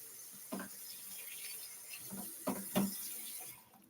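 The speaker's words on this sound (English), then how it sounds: "I'm just rinsing some of these." Water running from a kitchen tap while food is rinsed for garlic butter honey BBQ beef tacos, a steady close hiss with a few louder splashes near the end before the flow stops.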